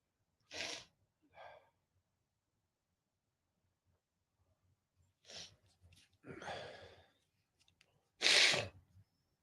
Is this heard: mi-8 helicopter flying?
no